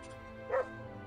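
A single short dog bark sounds in the video game Gothic II: Chronicles of Myrtana Archolos, quiet over a low steady background hum.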